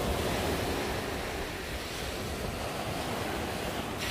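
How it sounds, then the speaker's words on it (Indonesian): Heavy rain and strong wind at a campsite near a waterfall, a loud continuous roaring wash of broadband noise with gusty buffeting against the microphone, no voices. "hujan deras."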